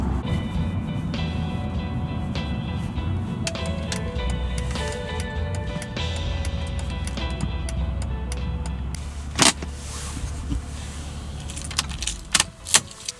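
Steady low rumble of a car interior while driving, with keys jangling and a few sharp clicks and knocks near the end; no speech.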